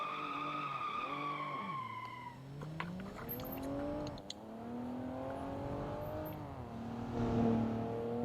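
A truck engine in the BeamNG driving game revs up and down in rising and falling sweeps, loud and continuous, with brief tire-skid tones and no talk.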